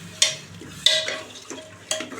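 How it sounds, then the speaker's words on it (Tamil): Spoon stirring curd into chicken curry masala in a pan, three or four sharp scraping strokes with a soft sizzle between them, close and fairly loud. "இப்போ தயிர் சேர்த்து ஒரு 2 நிமிஷம் நல்லா கிளறி விட்டுக்கலாம்."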